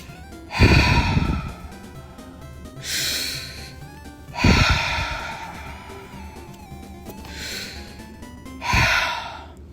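A sports commentator breathes heavily and deliberately into a close microphone: four loud, rasping breaths, alternating long snorting inhales and hissing exhales, each a second or two long with short pauses between.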